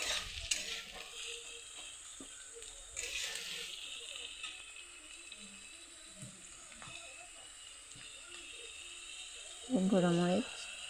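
Onion, garlic and green chilli fry in oil in a wok with a faint, steady sizzling hiss. A few soft clinks come through, and a short voice is heard near the end.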